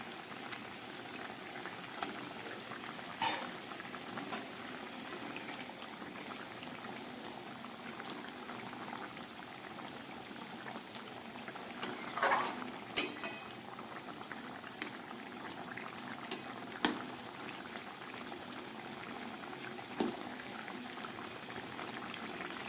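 A pot of Bengali fish curry, with fish pieces and fish heads, bubbles at a steady simmer close by, with a few soft clinks and splashes and no talking.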